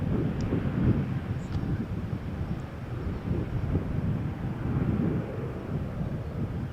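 An airplane roars down runway 13 at Malaga Airport on a stormy morning, a steady distant rumble of engine noise mixed with wind buffeting the microphone, with no nearby voices.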